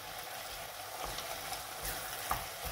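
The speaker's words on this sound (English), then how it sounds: "Let that cook out, fry out for a few seconds." Tomato puree sizzling and frying in a hot pan, a steady crackling hiss with occasional small pops, heard alone without talk.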